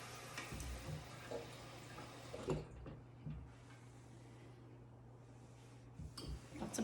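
Water is poured from a tap into a measuring cup up to the 2-cup mark while preparing a homemade pumpkin pie. A soft, continuous splashing runs throughout, with a few brief clatters near the start and end.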